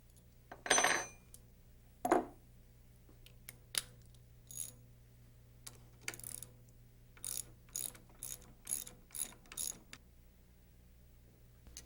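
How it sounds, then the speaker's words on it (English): A 9/16-inch socket wrench ratcheting to remove a locking nut on a Rotorway helicopter teeter block bolt: a few sharp metallic clinks, then a quiet series of short irregular ratchet clicks in a still room. "Using the 9/16" socket wrench and open-end wrench,"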